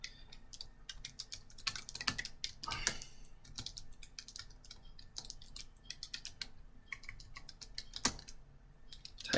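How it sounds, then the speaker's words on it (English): Quick, irregular clatter of keys on a computer keyboard as a title is typed, crisp close clicks in bursts with short pauses, quiet and alone. "Type in your title."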